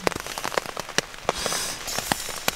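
Rain falls at night on a tent during an Adirondacks canoe trip, with irregular drops pattering sharply and close against the fabric over a soft continuous hiss.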